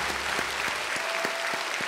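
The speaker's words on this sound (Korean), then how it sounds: "새해를 허락하신 우리 하나님께 다시 한번 큰 박수로 영광 올려드리겠습니다." A church congregation at a Yeouido Baptist Church New Year's Eve service applauds, a steady wash of many hands clapping in a large hall, fairly distant and even throughout.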